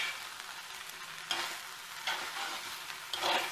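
Wheat and sprouted beans stir-fried in a pan give off a quiet steady sizzle, broken by several brief scraping tosses of a spoon, with no voices.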